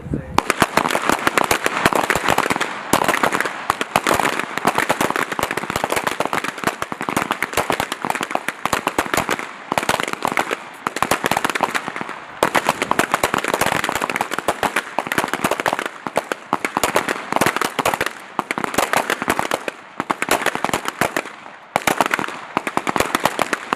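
Rapid volleys of pistol shots crack out at an army small arms shooting championship at Fort Benning, Georgia, many shooters firing at once in a dense, sharp, almost continuous barrage that runs without pause.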